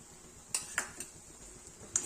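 Spoon clinking against a pan while moong dal halwa is stirred with ghee, a few sharp metallic taps spaced irregularly over a quiet background, close and fairly soft.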